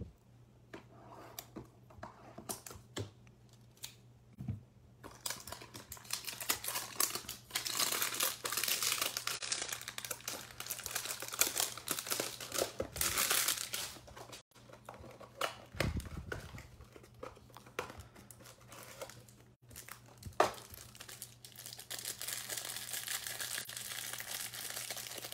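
Foil wrapping of a Topps Series 1 baseball card hanger pack crinkles and tears open, with sustained rustling and handling of cards up close over a steady low background hum.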